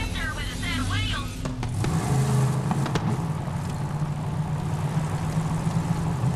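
A vehicle engine in Borderlands 3 rumbles with a steady, low drone as the car drives along, after a brief whirring, warbling start. A voice seems to talk faintly over it.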